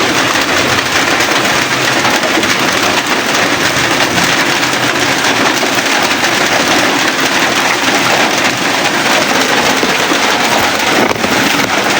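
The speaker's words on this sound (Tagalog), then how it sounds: "masyadong maulan dito" Heavy rain pours down in a continuous loud roar, buffeting the microphone with wind noise, steady and unbroken from start to finish with no voices.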